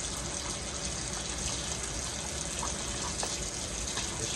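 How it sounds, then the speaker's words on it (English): Water pours steadily into a pot of Southern-style stew chicken, a continuous close gushing rush with faint clinks of stirring beneath it. "Put the water in, start stirring."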